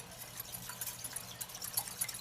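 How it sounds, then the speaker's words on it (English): A small mini whisk stirs sugar into half a cup of warm water, producing quick, soft clinking and liquid swishing taps that come near and fairly quiet, in a steady rhythm with no talking. "I'm going to dissolve the sugar into the half cup of warm water"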